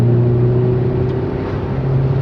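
Car in first gear pulling away and accelerating with a window open, a steady close engine drone with low harmonic hum and road noise throughout, no voices.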